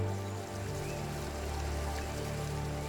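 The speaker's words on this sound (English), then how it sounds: "faced with rising waters and torrential rain" Torrential rain during a cyclone pours down in a dense, steady hiss of drops on surfaces, loud and continuous, with a low rumbling undertone throughout.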